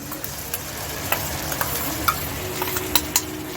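Onion paste dropped into a pan of frying onions for a fish kalia, with a steady close sizzle and a few light scraping stir taps punctuating it.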